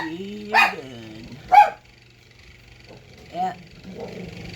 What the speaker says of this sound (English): That's my dog making noise because she likes to bark.